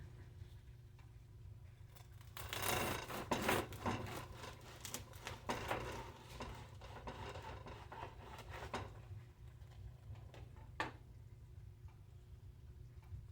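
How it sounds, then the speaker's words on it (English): A knife sawing into a crusty loaf of artisan bread, a run of close, dry scraping strokes in the middle, then quieter rasps and one sharp crackle near the end, with no talking. "let's cut into this bread"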